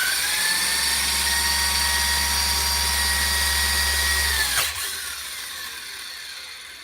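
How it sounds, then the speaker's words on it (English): A no-prep RC drag car's electric motor screaming at full throttle, a loud steady high-pitched whine with a low hum that cuts off abruptly near the end, leaving quieter background noise. "So, what's it like on full throttle, Rich?"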